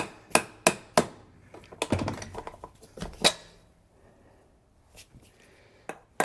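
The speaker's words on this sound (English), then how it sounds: "I know people hate it when they use DeWalt power tools as a hammer" Several sharp, loud knocks in quick succession, a DeWalt power tool used as a hammer during a flooring install, followed by scattered clatter and a few faint taps.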